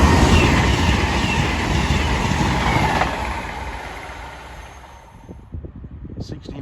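An Edinburgh to Plymouth train passes near Duffield Station with a loud, close rumble that fades away over several seconds, leaving quieter background sounds.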